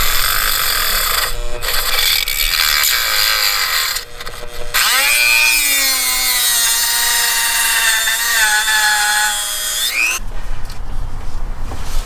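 Dremel rotary tool grinding away part of a BMW M3 starter: a loud, close, high-pitched whine that drops and steadies as it bites into the metal, running for several seconds before cutting off abruptly, with no speech.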